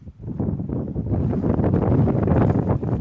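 Strong wind buffets the microphone in a continuous, loud rumbling roar that gusts and swells throughout.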